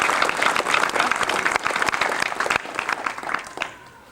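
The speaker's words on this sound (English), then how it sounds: "I think that deserves a round of applause" A bicycle club audience claps in a burst of applause, with close, distinct individual hand claps, sustained for a few seconds before trailing off abruptly near the end.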